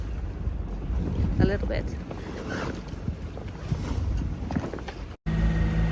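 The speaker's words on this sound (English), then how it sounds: "Now we have wind from the other side, eh? Oopsie. The wind is back." Wind buffets the microphone while a boat cruises off Ibiza, a steady low rumble and gusty roar with water noise beneath; a person speaks briefly.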